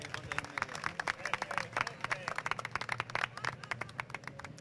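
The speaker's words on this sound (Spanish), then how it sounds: "un aplauso para él." A small audience claps for the astronomy coordinator being introduced at a presentation of weather-balloon results. Scattered, uneven hand claps sound at moderate distance, with crowd murmur and voices underneath.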